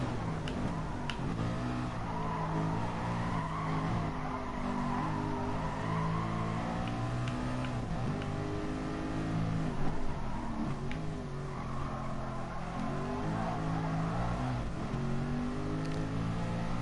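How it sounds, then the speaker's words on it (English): Engine of a 1992 Nissan R92CP Group C race car in the racing game GT Sport, droning steadily and loudly at high revs with shifting harmonics throughout, a continuous near onboard roar with no talking. "this car sounds bloody beautiful. I love the sound of this car. The R92 CP from 1992 this car is"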